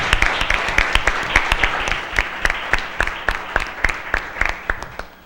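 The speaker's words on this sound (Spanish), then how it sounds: "pido un aplauso para darle la bienvenida a nuestra invitada especial" An audience at a parliamentary event applauds to welcome a special guest, with a steady wash of clapping and sharper individual claps in an irregular rhythm over about five seconds.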